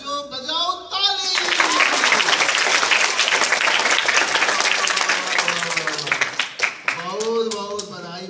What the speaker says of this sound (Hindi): बच्चों बजाओ ताली।